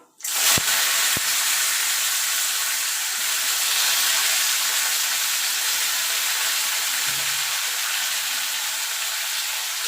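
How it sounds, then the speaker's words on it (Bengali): Mango pieces dropped into hot oil already crackling with panch phoron and a dried red chilli for homemade mango chutney, giving a loud, steady broadband sizzle that holds for the whole stretch after a sharp start, with a couple of faint clicks. "ফোড়নটা হয়ে গেছে এবার আমি আমগুলো দিয়ে দেবো"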